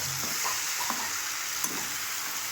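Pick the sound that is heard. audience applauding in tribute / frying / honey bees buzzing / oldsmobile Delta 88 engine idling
frying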